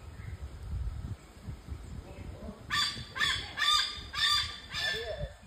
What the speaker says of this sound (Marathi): पक्षी आहे पक्षी.